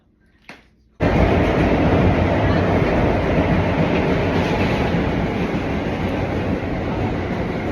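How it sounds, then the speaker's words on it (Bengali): A subway train rumbles steadily along the rails, a loud continuous roar with rhythmic rattling that starts abruptly after a brief quiet moment. "আমরা এখন ট্রেনে করে যাচ্ছি"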